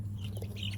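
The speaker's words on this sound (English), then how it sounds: "This is a rooster, right?" Chickens and a rooster in a coop on a garden plot give a quick, soft burst of clucking over a low steady hum, lasting under a second.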